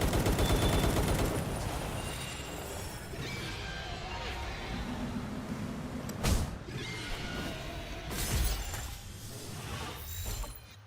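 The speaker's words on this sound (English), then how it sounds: "I love my scatter cannon." A scatter cannon fires in the Palworld video game with loud bursts and crashing blasts, including sharp impacts around the middle and later, over busy game noise.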